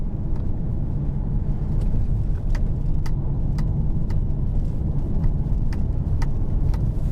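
A Mercedes-Benz eVito electric van accelerates hard through countryside, heard from inside the cab as a steady, loud road and motor rush with wind noise, continuous and even, with faint ticking clicks recurring over it.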